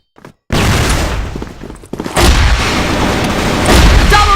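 A flash bomb goes off in a shooting game: a brief click, then a sudden loud blast that keeps booming and rumbling, with a second heavy burst of explosions following close behind.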